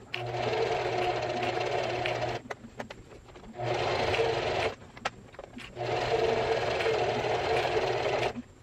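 A sewing machine runs a straight seam across dress pieces in three close, loud bursts of rapid stitching, separated by short pauses with soft handling noises.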